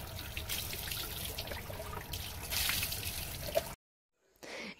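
Water poured from a mug during a dog's bath gives a continuous splashing, trickling wash that runs for several seconds, cuts to silence, then briefly resumes.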